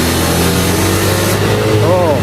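A Yamaha Aerox scooter engine with a rough-running fault revs loudly up close, a dense buzzing drone that climbs in pitch near the end, with a voice talking over it.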